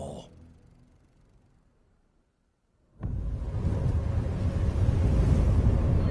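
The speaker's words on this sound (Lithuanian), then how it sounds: "Vėjas šiurkštus ir stiprus." Strong, harsh wind roars against the microphone, broadband and loud, after a few seconds of near silence.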